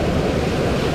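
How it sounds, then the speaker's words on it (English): Strong ocean surf rolls and crashes steadily onto a beach at Boston Beach in Portland, Jamaica, a dense, loud, continuous roar with wind buffeting the microphone and no voices. "waves out here are very strong."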